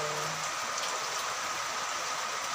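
Heavy rain pours steadily and loudly, a dense continuous hiss of drops close by with no other sounds or voices.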